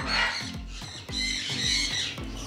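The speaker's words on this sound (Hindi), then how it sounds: "ये बर्ड्स बहुत आवाज़ कर रहा है, एक काकाटूल्स नाम का बर्ड्स है देखो" A cockatoo in an aviary gives a run of loud, harsh squawks, repeating rapidly and close by, with short gaps between the calls.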